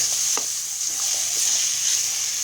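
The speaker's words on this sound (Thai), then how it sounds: "ผัดจนหอมนะครับ" Chili paste being stir-fried in a pan for a northern Thai red chili dip, a loud continuous sizzle with quick scraping strokes of the spatula, close.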